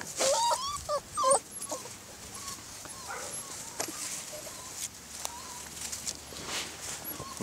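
Puppies whimpering and yipping in a few high, thin bursts early on, then fainter whines and light rustling over a quiet outdoor background.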